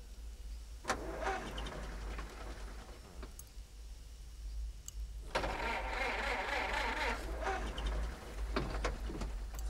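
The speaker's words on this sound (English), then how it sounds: "engine is not starting" A car engine cranks without catching, a steady mechanical drone with repeated starter bursts near the middle of a dubbed English romantic thriller movie scene; no talk is heard.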